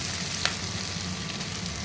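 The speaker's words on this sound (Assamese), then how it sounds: "আলুটো সিজিলে এইখিনি ভাজি হৈ গৈছে" Potatoes and peas fry in a pan, giving a steady close sizzle throughout the short moment, with one brief scrape or clink near the start.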